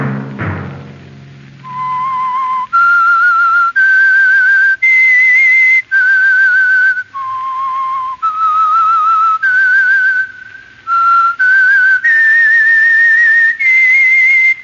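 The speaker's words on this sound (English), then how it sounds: "Let that whistle be your signal" A whistle blows in a run of long, loud, sustained notes at shifting pitches, each note separated by a short gap.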